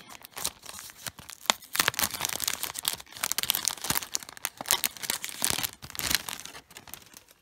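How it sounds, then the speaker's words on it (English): Doll denim shorts are pulled from crinkly plastic packaging, close and busy crackling and tearing that comes in uneven bursts for several seconds. "Let me take them out of the packaging."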